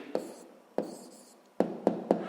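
A pen writes down the answer to a sixth-grade math problem in five short, sharp scratching strokes, close and fairly quiet, with pauses between them.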